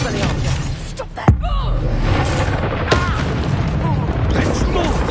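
Spells are cast in a Harry Potter video game, Depulso and Expelliarmus among them: sharp booming blasts and crackling magical bursts ring out, one loud hit standing out, over shouted voices.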